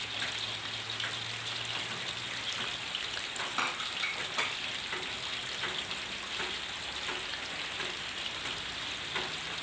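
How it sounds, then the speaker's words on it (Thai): Rain falling outdoors during cooking of sour fermented fish slices; a steady, fine patter of drops runs throughout, mixed with a faint sizzle-like hiss and occasional small taps, fairly quiet and with no talk. "วันนี้ฝนตกนะครับ อาจจะมีเสียงฝนหน่อยนะครับ"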